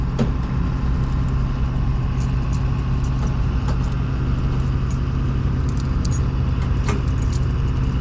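Car keys jangle at a gas pump, small metallic clinks scattered over a steady hum of traffic and idling engines nearby.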